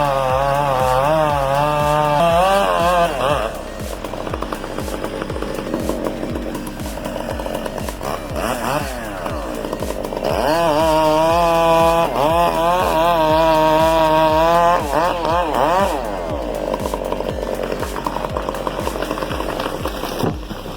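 Chainsaws cut into trees, engines whining and bogging as they rise and fall in pitch, with loud steady buzzing throughout and woody crackle in between.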